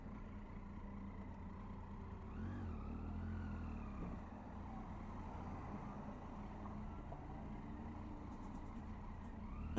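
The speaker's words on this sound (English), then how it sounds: "A tractor." A tractor engine rumbles past, a low, steady drone with a slight rise in pitch, faint and somewhat distant.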